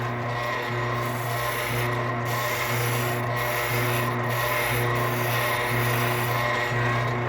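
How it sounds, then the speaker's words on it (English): An oscillating spindle sander runs steadily up close, its drum rasping continuously against a wooden marking-gauge piece with a constant motor hum and faint rhythmic pulsing throughout. "Oscillating spindle sander."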